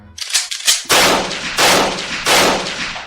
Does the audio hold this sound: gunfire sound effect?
yes